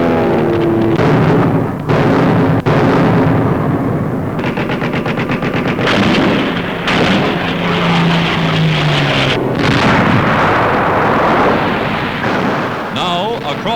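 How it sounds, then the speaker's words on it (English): Loud WWII newsreel soundtrack of U.S. artillery shelling the Nazi-held naval base across Lake Bizerte, with dense bursts of rapid gunfire and heavy booms, partly under an old narrator's voice. "U.S. artillery reduces the Nazi-held naval base."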